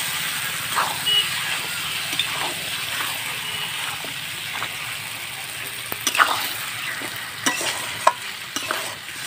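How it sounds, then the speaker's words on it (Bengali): Chicken pieces being stir-fried for kosha in a pan: a steady close sizzle broken by repeated scraping and knocking strokes of a spatula, with a few sharper clinks and no voices. "মাংসটা দিয়ে ভালো করে কষিয়ে নেব।"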